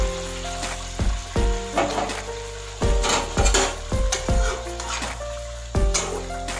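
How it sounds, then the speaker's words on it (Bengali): Fried cauliflower and hot water go into a hot pan and are stirred, giving a loud burst of sizzling with repeated scraping and clanking strokes at a steady rhythm. "ভেজে রাখা ফুলকপিগুলো অ্যাড করে দেবো। একটু জল লাগবে, তাই জন্য আরেকটু পরিমাণে জল আমি গরম জল অ্যাড করে দিলাম।"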